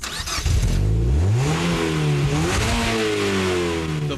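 A 2005 Mazda Miata NC with an aluminum-block 2-liter four-cylinder accelerating hard, the engine note climbing through rising revs with a brief shift dip before pulling up again, loud and close.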